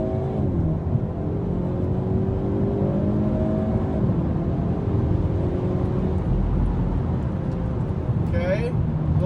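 A car engine revs and accelerates hard in low gears on a damp road, the tires spinning and losing traction, a steady loud drone with rising pitch sweeps heard from inside while a person talks.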